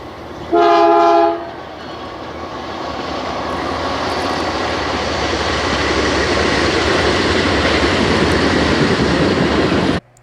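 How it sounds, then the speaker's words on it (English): A loud train horn blasts once at the start, then a heavy rumble of the train passing swells and holds before cutting off abruptly. "I like the horn right there, just as the train is about to pass"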